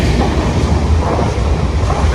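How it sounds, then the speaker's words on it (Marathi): A crowded Konkan Railway Diva–Sawantwadi passenger train roars loudly and steadily at close range, with continuous rumbling and rushing noise throughout. "फायनली ट्रेन मिळालेली आहे दिवा सावंतवाडी"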